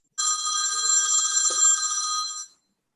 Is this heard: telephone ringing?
yes